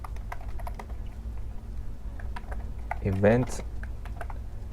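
Typing on a computer keyboard while writing a smart contract transfer entry, a steady patter of light key clicks running under a voice, which rises briefly near the end.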